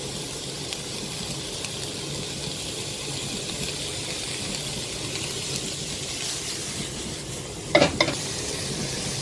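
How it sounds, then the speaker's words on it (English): Carrots and onions browning in a pan over high heat give a steady, even sizzle with no talking, broken near the end by a couple of sharp clinks from a utensil against the pan. "So ideally on a high heat, brown the carrots and the onions."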